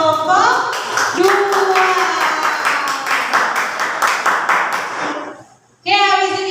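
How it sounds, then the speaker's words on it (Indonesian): Students in a classroom clap together for a group in rhythmic, evenly spaced beats while children's voices sing or chant along, then stop briefly before voices resume. "kita beri tepuk tangan dulu buat kelompok 2"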